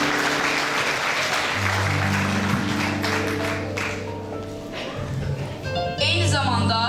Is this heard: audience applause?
yes